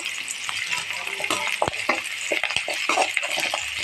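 Chopped onions with salt sautéing in a pan for Tamil-style egg curry, a steady sizzle with occasional scraping stirs and light clinks of a spoon against the pan.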